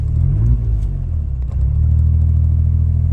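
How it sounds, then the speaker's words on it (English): A Suzuki Alto Works engine idles with a close, deep rumble, its steady drone rising and falling slightly as the idle surges, with a brief dip midway. "This surging and idling around to 1500"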